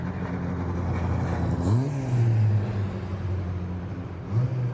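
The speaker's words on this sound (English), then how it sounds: "Let's just get a close look at these cars as they come down the pit lane here at Donington Park." Historic 750 Formula race cars rolling down the Donington Park pit lane, steady engine drone with a rising rev swell midway and another brief surge near the end, fairly close.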